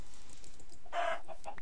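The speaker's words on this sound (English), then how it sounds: "There's also a bunch of chickens." A single brief chicken cluck in Minecraft rises out of a quiet, steady background hum, fairly close and modest in volume.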